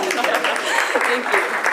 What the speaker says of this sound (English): Getting another round of applause for that.